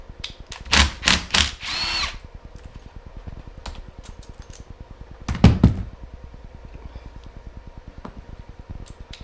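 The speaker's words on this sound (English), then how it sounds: "I'm just going to undo the 2 outside motor screws." A power tool undoes the outside motor screws on a Rascal Vision mobility scooter at a workbench, giving several sharp bursts of whirring and rattling over a fast, steady mechanical ticking that continues throughout.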